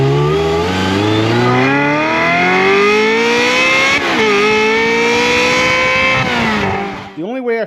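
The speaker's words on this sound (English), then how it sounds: "it also just makes this car sound absolutely amazing" A Ferrari F355 with its factory exhaust system runs loud and close, the engine note climbing steadily in pitch through a long rev, dipping briefly, then rising again before cutting off.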